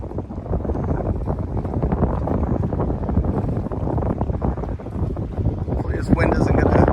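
Wind buffets a moving 53-foot Carver yacht underway near Annapolis, a loud, constant roar of gusts across the microphone that stays dense and unbroken throughout, with no clear talk.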